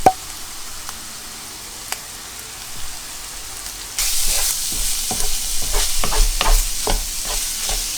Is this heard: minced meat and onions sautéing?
yes